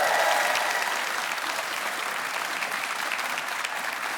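A studio audience on a late-night talk show applauds steadily, a dense wash of clapping that stays fairly even and moderately distant throughout.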